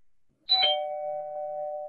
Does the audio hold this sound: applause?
no